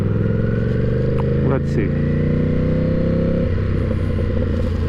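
A Ducati 1000cc motorcycle engine runs with a loud, steady low rumble that holds throughout and shifts in pitch toward the end; a voice speaks briefly over it.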